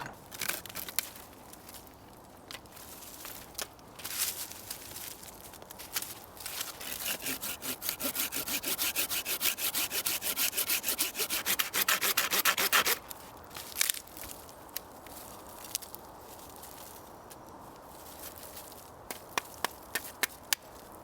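Steady back-and-forth hand sawing through tree roots, close and continuous for a long stretch, with intermittent scraping and rubbing before and after.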